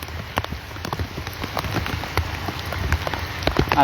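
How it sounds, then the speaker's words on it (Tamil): A downpour falls hard in the hills, making a steady broadband wash of rain with frequent close droplet splashes and a low rumble underneath, loud and uninterrupted. "செம மழை பெய்யுது"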